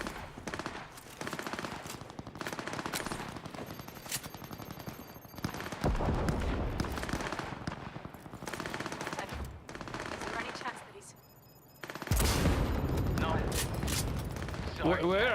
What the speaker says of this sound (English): Am I shooting my own guys?